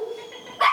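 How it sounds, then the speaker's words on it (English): A small dog gives one short, sharp bark near the end of a quiet indoor moment during an obedience training session, close and fairly loud after near silence. "I wanna see if he barks or anything like that"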